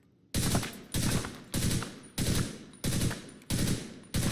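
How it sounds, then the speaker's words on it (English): Merciless rifle in The Division 2 video game firing three-round bursts: seven loud, evenly spaced bursts of sharp, clattering shots, each one ringing out briefly before the next, with no talking. "it fires a three round burst"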